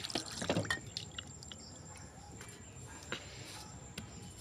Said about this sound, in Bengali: এই যে জল দিয়ে দিই